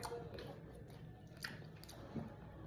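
Someone eats boiled chicken with cucumber, with soft close-up biting and chewing sounds and a couple of brief crunches over a low room hum, without any talking.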